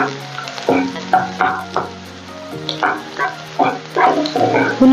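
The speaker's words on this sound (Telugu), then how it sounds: "ఇది మారుతున్నప్పుడు ఒక 2 ఉల్లిపాయలు సన్నగా కట్ చేసుకున్న ఒక 2 ఉల్లిపాయలు ఇంట్లో వేసుకొని ఇది కూడా కొంచెం గోల్డెన్ బ్రౌన్ రావాలండి." Two thinly sliced onions fry in oil until golden brown, giving a close, steady sizzle broken by repeated bursts of bubbling and stirring scrapes in an uneven rhythm; no speech.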